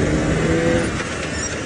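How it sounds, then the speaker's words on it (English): Engine of a safari game-drive vehicle revving, a loud, steady low rumble that fills the short stretch without pause, close by, with no talk over it. "My favorite part. To rev the engine."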